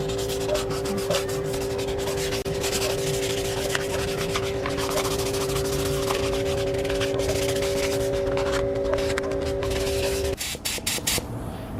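Primer being scuffed down by hand with 320-grit sandpaper, a steady, close rubbing scratch with repeated strokes over a constant background hum that cuts out near the end.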